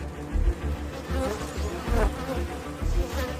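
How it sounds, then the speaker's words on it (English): Japanese honeybees and a hornet buzz loudly and continuously up close, a dense droning hum with pulsing swells as the hornet attacks the colony. "As the bees retreat, the hornet makes its move."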